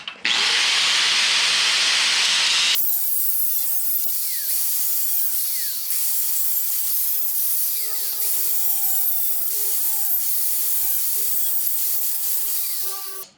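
A high-pitched whine of a corded cut-off grinder, then a long grinding cut with shifting pitch as the disc bites into metal, loud and close, while installing a garage door.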